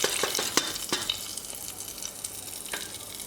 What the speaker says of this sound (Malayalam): നമ്മൾ താളിച്ച് വെച്ചേക്കുന്ന നമുക്ക് കടലക്കറിയിലേക്ക് ഒഴിച്ച് കൊടുക്കാം